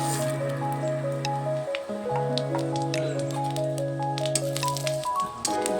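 Bay leaves, cumin, dried chillies and whole garam masala drop into hot mustard oil, crackling and spitting in scattered sharp pops and a soft sputter, heard under steady background music.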